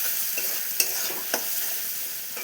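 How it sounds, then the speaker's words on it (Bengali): Spices with coriander powder frying on a low flame, an even, close sizzle punctuated by two or three crisp spatula scrapes and taps against the pan, no speech. "এরকম করে 2-3 সেকেন্ড ভেজে নিতে হবে"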